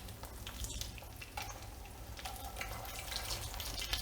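An egg deep-fries in hot oil with a faint, continuous sizzle and crackle, punctuated by soft splashes as oil is spooned over it.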